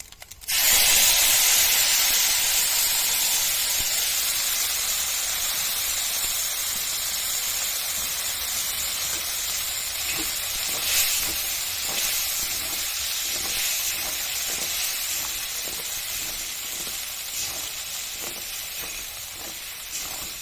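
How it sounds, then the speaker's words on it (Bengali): A ground paste of tomato, cashew, melon seeds and poppy seeds drops into hot oil for a soybean curry, setting off a sudden, loud sizzle that hisses on steadily and eases slightly, with faint stirring scrapes near the end. "এবার এই বাটাটা দিয়ে দেবো তেলের মধ্যে।"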